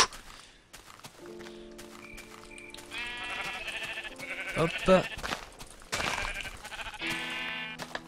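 Sheep bleat repeatedly in a survival video game, wavering harmonic calls in several bursts, mixed with game sounds while someone talks over them.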